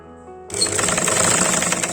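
A sewing machine stitches fabric for a child's frog dress, starting abruptly after a brief quiet hum and then running in a fast, steady, close rattling burst.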